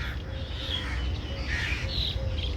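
On an island in Sharjah, crows and other birds give scattered caws and squawks at a distance, faint over a steady wind-like outdoor hum.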